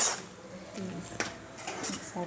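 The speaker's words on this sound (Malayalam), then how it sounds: "വേവിച്ച് വെച്ച കപ്പ ഇതിലേക്ക് ഇട്ട് മിക്സ് ചെയ്യാം" A spoon scrapes and clinks against a pan as cooked tapioca is mixed into squid, with a few light metallic taps and stirring sounds at close range and a faint sizzle underneath.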